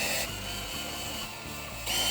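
A screw is driven into a hinge plate during sidecar furniture assembly, giving a close, steady mechanical whir that dips briefly midway and picks up again at the end.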